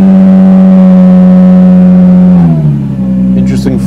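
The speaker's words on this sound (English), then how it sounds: "I definitely wanna get a startup with this car from the back." Nissan GT-R Nismo 2019-based Etel Design GTR 50 engine, running loud and steady with a strong low drone before dipping and rising again in a short rev, with voices talking over it.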